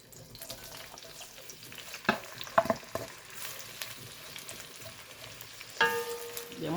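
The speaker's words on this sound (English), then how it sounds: "The momoy and onion is going to fry for 6 minutes" Onions and momoy salted fish frying in a pan, a soft continuous sizzle broken by a few sharp clinks and scrapes from stirring, with no talking.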